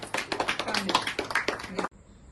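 Audience at a celebration for a Thailand tour win claps in a burst of scattered applause for nearly two seconds, then stops abruptly, leaving near silence.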